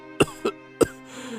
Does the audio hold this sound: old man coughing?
yes